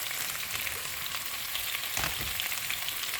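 Garlic and onion sauté in a hot pan for chicken adobo, giving a dense, steady sizzle that stays loud and close for the whole stretch, with no voices over it.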